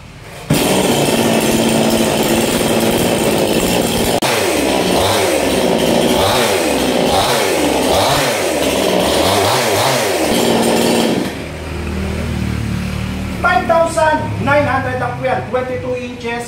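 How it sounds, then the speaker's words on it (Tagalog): A 22-inch petrol chainsaw is started, then revs loudly in rising and falling bursts for several seconds before dropping to a lower idle while a person talks over it. "Yan, 22 inches na petrol chainsaw."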